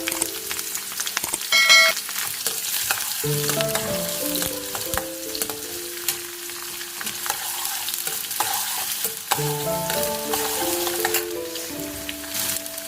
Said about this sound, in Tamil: கூட கொஞ்சம் கருவேப்பிலை சேர்த்து நல்லா வதக்கி விட்டுருங்க.